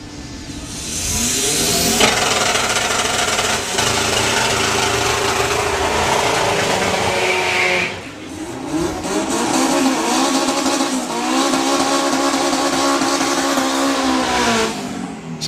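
A drag racing doorslammer car at a VP Racing event roaring down the strip, loud sustained engine howl with gear-change dips and rising revs across the run.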